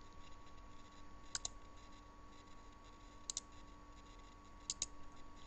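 Computer mouse clicked three times in quick pairs, small sharp ticks spaced a couple of seconds apart over a faint steady hum in a quiet room.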